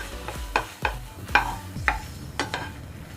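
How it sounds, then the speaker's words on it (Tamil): A utensil scrapes and stirs cream in a pan over a low flame, with about six distinct strokes at an uneven rhythm over a faint sizzle, close and fairly loud. "மிக்ஸ் பண்ணிகிட்டே இருங்க, லோ ஃப்ளேம்லேயே வச்சு செய்யுங்க."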